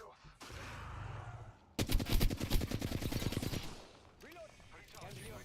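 Video game automatic gunfire rattles in a rapid, loud burst lasting a couple of seconds, with scattered shots and mechanical clatter before and after, and a voice speaking over the action.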